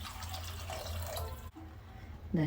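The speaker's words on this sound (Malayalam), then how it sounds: "അതിലേക്ക് നമുക്ക് എത്ര വെള്ളം വേണോ അത്ര കുറച്ചും കൂടെ വെള്ളം ഒഴിച്ചു കൊടുക്കാം" Water runs into a cooking pot in a soft, close trickle that stops partway through. A faint splash follows near the end, and no one speaks.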